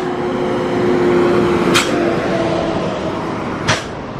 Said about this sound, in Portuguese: Olha como trabalha o freio a ar desse caminhão, ó.